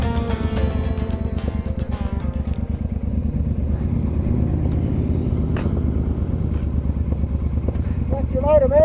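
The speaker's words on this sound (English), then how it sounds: "why does my bike sound so loud?" A motorbike engine droning steadily while riding in Tasmania, loud and close with a rumbling, pulsing tone and some wind, with a voice speaking over it in places.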